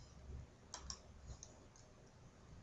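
Computer mouse clicks on a software dialog's OK button: a few crisp, faint, closely spaced clicks over quiet room tone.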